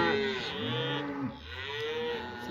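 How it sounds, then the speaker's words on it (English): Cattle mooing on a cloudy farm morning, several cows lowing in long, overlapping calls one after another, close and loud, with no talk. "All the cows here."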